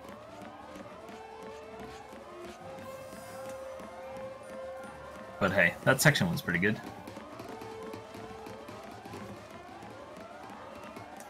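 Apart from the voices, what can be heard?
siren going off in Final Fantasy XIII video game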